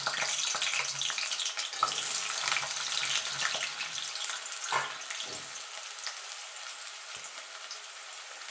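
Cut potatoes sizzle in hot mustard oil in a pan, a steady broadband frying hiss with a few louder pops near the start that settles gradually quieter, with no voices.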